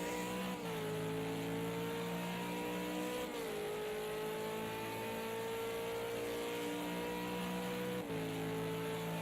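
A V8 Supercar racing engine at Monza roars loud and close as the driver feathers the throttle, holding a steady droning pitch with brief dips near the start, midway and toward the end; no one speaks.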